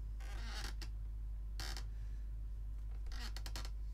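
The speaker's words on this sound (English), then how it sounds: "You can hear my chair squeaking." An office chair squeaks in a few short, scratchy creaks, fairly faint over a steady low hum, with no talking.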